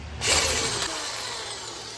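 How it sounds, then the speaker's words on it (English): Power drill bores into a 2016 Honda Civic front brake rotor, a loud whirring burst that starts abruptly and then settles into a steady high grind for the rest of the moment. "Yep, time for the drill."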